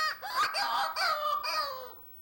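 A human voice imitates a rabbit's distress call, a high, wavering, baby-like wail rising and breaking into several sobbing cries over about two seconds, close and fairly loud.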